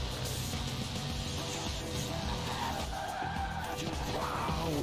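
Car tires skid and squeal under a handbrake turn in the racing game Forza Horizon 4, a steady loud drone of engine and rubber scrubbing continuously throughout.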